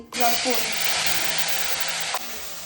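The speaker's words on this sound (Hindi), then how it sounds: "ये पेस्ट है गार्लिक, ग्रीन चिल्ली, अनियन का। तो अब मैं इसमें ये पेस्ट डाल दूंगी।" A paste of garlic, green chili and onion hits a hot kadhai and sizzles loudly. The sharp, continuous frying hiss is close and steady, with a brief clatter near the end.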